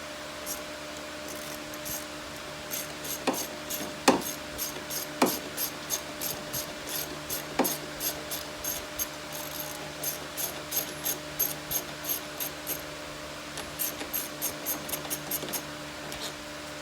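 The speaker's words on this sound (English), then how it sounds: "Loosen up my two 10mm bolts on each side of my radiator." A ratchet loosens 10mm radiator bolts on a Jeep Liberty, sounding in repeated bursts of rapid clicking with a few sharper knocks, close and moderately loud against a quiet garage background.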